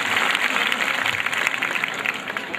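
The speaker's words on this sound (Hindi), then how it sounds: "एक बार जोरदार ताली आप सभी के लिए।" An audience applauds at a school talent show, with dense and steady clapping throughout, loud and fairly close, and no voices standing out.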